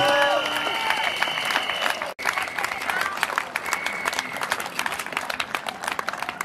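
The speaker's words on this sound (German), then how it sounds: "den Applaus hat er sich verdient" Crowd applause at a rally on Karlsruhe's market square: steady, dense clapping from many hands fills the whole stretch, with a brief dropout near the middle and some voices mixed in.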